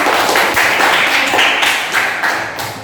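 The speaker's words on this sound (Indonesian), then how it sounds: "saya rasa boleh beri tepuk tangan untuk kelompok 3" Students in a classroom applaud a group of classmates, dense continuous clapping close by that slowly eases off toward the end.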